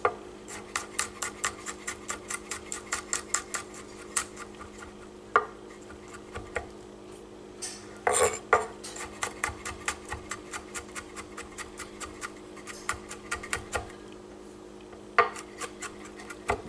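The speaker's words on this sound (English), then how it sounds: "We're going to mince some garlic." Knife mincing garlic on a cutting board: rapid, steady runs of crisp chopping taps close by, pausing briefly between bursts, with a few louder knocks, and no talking.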